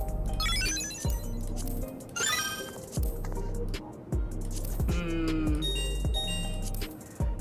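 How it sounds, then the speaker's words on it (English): Notification chimes from the Final Fantasy XIV chat settings play one after another, a string of short, bright bell-like and plucked tones, each different from the last, fairly loud with no voices. "Some of these notification sounds are not that great."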